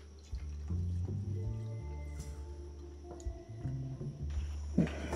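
Clean water drips and trickles onto a quartz rock, small wet plinks and squishes close by over a low steady hum, with a louder splash near the end.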